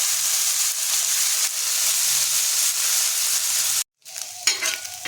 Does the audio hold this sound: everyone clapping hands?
no